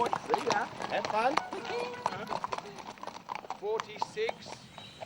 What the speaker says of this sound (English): Horse and rider, an ancient sacred bond.